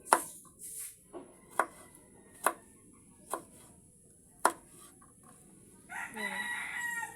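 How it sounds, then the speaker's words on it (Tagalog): A knife chops peeled wangba into small pieces on a board, giving several sharp, separate thuds spaced about a second apart, followed by a rising, softer rustle near the end. "Hiwain na natin ngayon siya sa maliliit na piraso."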